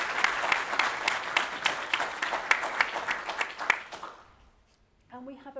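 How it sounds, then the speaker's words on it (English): An audience in a lecture hall applauds to welcome guests, sustained and fairly close, with steady claps that fade out after about four seconds, and then a voice begins speaking. "So shall we give them a round of applause to welcome them?"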